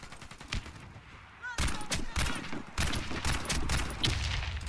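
Bursts of gunfire from Warface gameplay with a Tavor STAR-21 rifle: a quieter stretch of shots, then loud, close, rapid reports in clustered volleys that last to the end, with a voice briefly heard.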